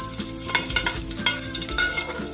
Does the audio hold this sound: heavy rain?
no